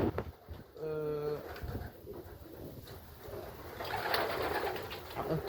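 Pigeons coo in a loft amid faint rustling and other birds, with soft voices murmuring in the background.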